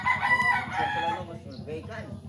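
A neighbour's rooster crows nearby in Barancuag village, Dagupan, a long drawn-out call, with other chickens clucking faintly in the background.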